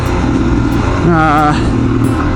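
Dual sport motorcycle cruising Southern California back roads between Oak Grove and Idyllwild, a steady close engine drone with wind rush throughout and a brief wavering rise in pitch midway.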